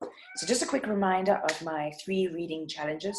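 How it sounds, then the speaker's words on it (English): A pet cat meows repeatedly and loudly nearby, its cries overlapping with a person talking throughout. "that's my cat"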